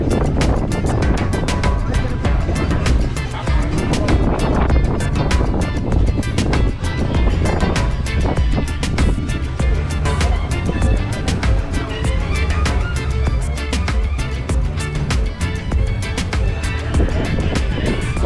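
Strong wind gusting outdoors, buffeting the microphone with a constant loud rumble and roar throughout, with no talking.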